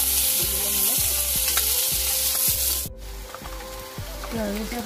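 Chopped onions fry and sizzle in hot oil in a pan for a paneer dish, a steady loud crackle broken by regular scraping stirs of a spatula, with no talk over it.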